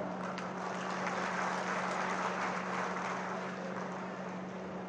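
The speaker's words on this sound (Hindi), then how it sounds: "आप लोगों ने तालियां बजाकर मेरा स्वागत किया है" Dense crowd clapping at a political rally in Kanker, Bastar, welcoming Defence Minister Rajnath Singh, a steady unbroken wash of many hands over a low electrical hum.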